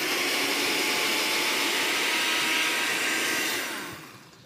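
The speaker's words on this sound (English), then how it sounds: "give it a good blend, about 50, 60 seconds to make sure that it's really nicely pureed" A blender purees pumpkin soup under a cloth, a loud, steady whirring motor roar that holds evenly, then winds down and fades near the end.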